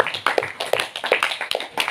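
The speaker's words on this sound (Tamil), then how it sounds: "கைத்தட்டி அவர்களுடைய பாராட்டுகளை வாழ்த்துக்களை சிறப்பான தெரிவித்துக் கொள்வோம்." A congregation at a church service claps in a steady rhythm, several sharp, fairly close hand claps per second, with no speech over them.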